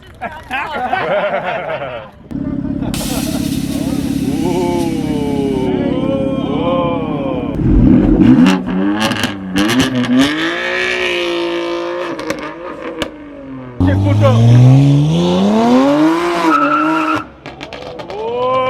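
A straight-piped BMW M4 F82 does a launch-control start at a BMW car meet: loud exhaust roar and rising revs, with sharp bursts and crackles, mixed with excited voices and exclamations over the engine.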